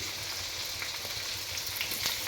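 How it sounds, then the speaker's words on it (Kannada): Onions frying in oil in a pan, a continuous close sizzle and crackle, bright and steady throughout with no voices. "ಆಯಿಲ್ನಲ್ಲಿ ಈರುಳ್ಳಿನ ಈ ರೀತಿ ಫ್ರೈ ಮಾಡ್ಕೊಳ್ಳಿ"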